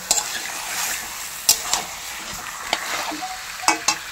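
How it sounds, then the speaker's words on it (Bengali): Meat sizzling and frying in a pan, with a spatula scraping and clattering in bursts as it is stirred, close by. "তো এইভাবে মাংস আমি 20 মিনিট কষিয়ে নেব"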